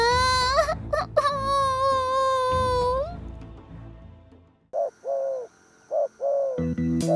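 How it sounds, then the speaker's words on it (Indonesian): A tethered turtledove (tekukur), one leg bound, gives a few soft cooing notes in the second half, after an earlier stretch of other harmonic, musical sound. "Tapi ini beneran suara tekukur loh."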